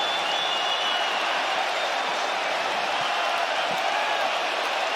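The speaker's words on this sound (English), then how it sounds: "A standing ovation from the capacity crowd in Perth, Western Australia." A capacity arena crowd in Perth, Western Australia gives a standing ovation after a Makhachev–Volkanovski fight, a dense, sustained roar of clapping and cheering that stays even and loud throughout.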